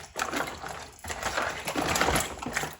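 Okra is rinsed by hand in a bowl of water, with splashing and sloshing bursts that come in uneven waves and a brief pause near one second.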